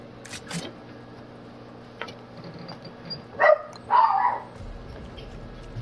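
Dogs in a video game let out a few sharp barks close together, loud against a quiet, faintly humming background, with no one talking.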